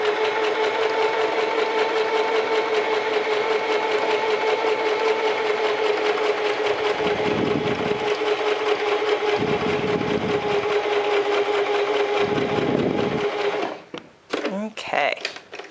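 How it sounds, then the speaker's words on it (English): A sewing machine stitches a long bodice dart, running steadily with a loud continuous whir for many seconds, briefly dipping in pitch a few times before stopping with a few clicks. "my goal is to sew straight until I go right off the edge, way down here"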